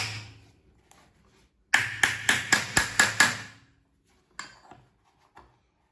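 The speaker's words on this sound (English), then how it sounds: "I'm just riveting the pad in place." A hammer drives rivets into a horse's hoof pad, about eight sharp metallic strikes in a steady quick run at close range, followed by a few softer taps.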